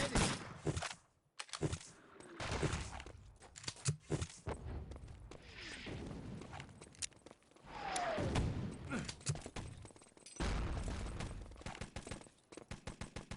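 Rifle grenade blasts and gunfire in the online shooter Wolfenstein: Enemy Territory during a competitive match, with repeated loud bursts, rapid shots and a few heavier explosions spread across the span, under game noise.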